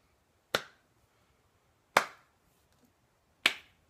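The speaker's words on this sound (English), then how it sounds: "Just slow clap" Three sharp, isolated hand claps spaced about a second and a half apart in a quiet room, each crisp and close with silence between, a deliberately slow clap.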